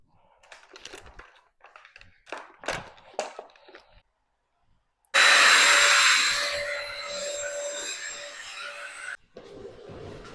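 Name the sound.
combo steamer and vacuum cleaning floors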